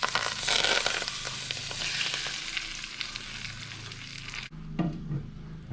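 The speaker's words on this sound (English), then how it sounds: "While that oil, turmeric and fenugreek seeds are still really hot, I'm just going to tip it straight into that bowl." Very hot oil with turmeric and fenugreek seeds is tipped into a bowl and sizzles with a loud, crackling hiss. The hiss cuts off sharply, and softer spitting and a clatter follow.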